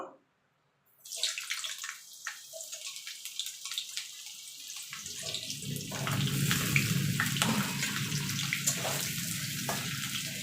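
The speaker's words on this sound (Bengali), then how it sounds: "এই তেলা ফুলকপিগুলো একটু ভেজে নেব" Cauliflower florets fry in hot oil with a broad, watery hiss that starts abruptly after a moment of quiet, then swells into a fuller, bubbling sizzle about halfway through.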